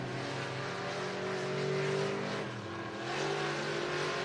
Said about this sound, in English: One more trip around the speedway for Garrett Craig.